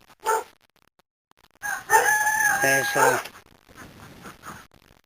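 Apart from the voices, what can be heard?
rooster crowing and ducks on a farm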